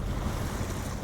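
Ocean waves washing around a small boat in foggy, choppy conditions, a steady low rushing wash with wind noise across the microphone, continuous and fairly quiet.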